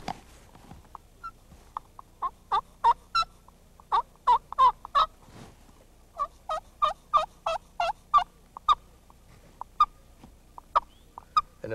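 An old-time turkey call of turtle shell and slate produces a run of short, clear yelps and clucks in an even rhythm. It sounds close, stands out over a quiet background and pauses now and then.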